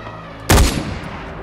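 Gunfire in the video game Far Cry 4: a single loud, close burst of shots with a sharp attack and a decaying tail over a low background hum.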